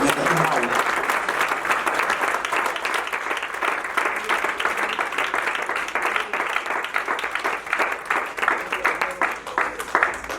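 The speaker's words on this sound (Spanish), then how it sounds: "Denle un aplauso al Señor, hermano." A church congregation claps steadily and loudly for about ten seconds at a worship service, a dense, continuous wash of hand claps with some voices mixed in.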